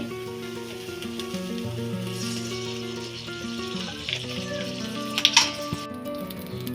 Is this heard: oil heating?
yes